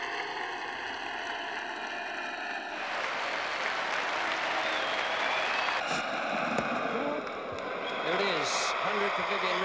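A large cricket crowd at the MCG bursts into sustained applause and cheering for batsman Viv Richards during a one-day international, a dense roar of clapping that swells midway, with a commentator talking over it.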